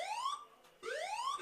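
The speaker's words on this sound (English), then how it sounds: "It's a pretty annoying alarm." At a rugby league ground during a grand final, an alarm wails in rising sweeps, two long upward tones separated by a short gap, loud and insistent.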